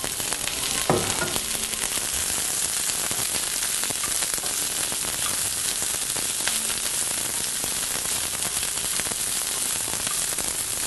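Vegetables stir-frying in a hot pan give off a steady, dense sizzle and crackle that holds evenly loud from start to finish, with no voices over it.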